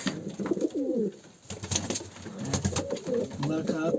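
Kanat posta pigeons coo repeatedly at close range, their low warbling calls recurring throughout, with someone talking over parts of it.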